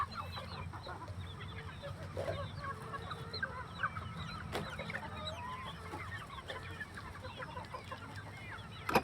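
Chickens of a local free-range breed cluck steadily around a feeding area, a busy overlapping chorus of short calls over a low, constant background hum, moderately close and continuous throughout.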